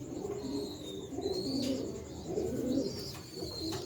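Ferozpuri pigeons coo nearby in repeated low throaty rolls, with faint high chirps from other birds behind them.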